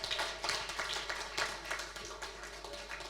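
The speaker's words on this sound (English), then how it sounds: "So let's give them a big applause" An audience at a COP27 gender and climate justice session claps for the drafting team, a dense and continuous patter of many hands at moderate volume with no voices over it.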